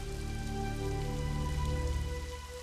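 Heavy rain pouring steadily outdoors, a dense, continuous wash of drops on surfaces that stays loud and even throughout, with no voices.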